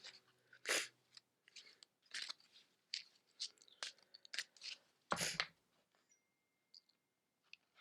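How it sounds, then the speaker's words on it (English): Oracle cards shuffle close by in quiet bursts of crisp riffling and clicking, separated by short pauses, with no talking. "And I will begin to shuffle the cards."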